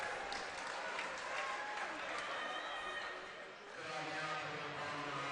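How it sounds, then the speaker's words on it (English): A crowd at a basketball grand final cheers and applauds in a broad, steady wash that dips briefly before swelling again, heard from a distance in a gym. "Some potentially sarcastic cheers coming from the crowd out here."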